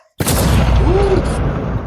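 Gunfire on a stage during a televised awards show, a dense burst of shots and booming noise filling the whole stretch, loud and close with crowd-like clamor underneath.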